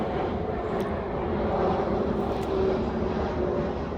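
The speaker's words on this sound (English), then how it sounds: "We have an airplane and a hot rod on the highway at the same time." An airplane passes overhead, a steady broadband engine roar that stays loud and continuous throughout, with no speech over it.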